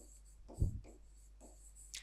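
Quiet, scratchy strokes of handwriting notes during a Class 9 science lesson on tissues, faint and close with brief pauses.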